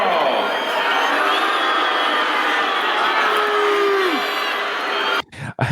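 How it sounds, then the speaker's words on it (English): A large arena crowd roars and boos steadily at Ivan Drago, the Soviet boxer in Rocky IV, in a loud, continuous wash of voices that cuts off abruptly near the end. "Look at the vitriol booing."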